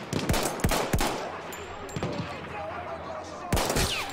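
Gunfire in the first-person shooter Battlefield 1: a burst of sharp, loud shots close together early on, a couple of single cracks mid-clip and a final shot, with game ambience between.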